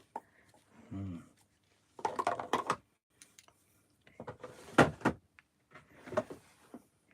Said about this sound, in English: can you hear him rummaging around in the drawers?